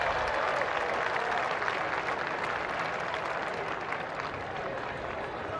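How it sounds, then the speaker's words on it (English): Baseball fans at Tempe Diablo Stadium applaud during a spring training game, a steady, fairly dense clapping that holds evenly for several seconds. "Nice applause from the crowd here at Tempe Diablo."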